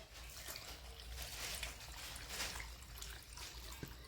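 Water trickles and splashes into a pressure cooker holding goat head meat seasoned with salt and turmeric, a faint uneven pour with soft splatter bursts.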